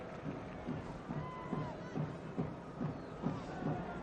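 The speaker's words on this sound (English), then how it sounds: "Good big crowd in the Stade Velodrome" A big football crowd at the Stade Vélodrome in Marseille during a friendly against Milan, a steady, distant wash of roar with soft rhythmic pulses, as if chanting, underneath a faint voice.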